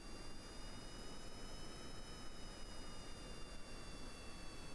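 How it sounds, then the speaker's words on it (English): A small Juno jet engine on a rocket vessel in a video game, giving a faint, steady, hissing whine with a broad airy roar and a few thin high tones, constant throughout with no talk. "Little Juno engine will drive us forward"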